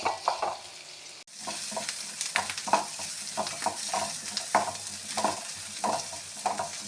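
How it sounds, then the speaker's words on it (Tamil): Steady sizzling of finely chopped onions, garlic and ginger sautéing in oil with repeated stirring scrapes, close and fairly loud, no voices. "இதையெல்லாம் பொடியாக நறுக்கி இந்த எண்ணெயில் கொஞ்சம் நேரம் வதக்கணும்"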